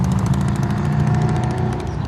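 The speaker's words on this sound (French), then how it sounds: "La moto qui passe." A motorcycle engine drones steadily close by for about two seconds, a rough buzzing hum with no voices over it.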